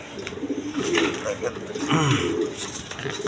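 Colored pigeons, including Lal Gorra, coo in a pen, several soft low coos repeating near and steady, with someone talking over them.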